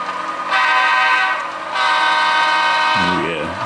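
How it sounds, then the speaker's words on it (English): Horns on a model railroad layout during yard switching operations sound in a couple of loud, sustained toots with a pause between, followed by a voice talking over the end. "I can tell by the way the horns are honking."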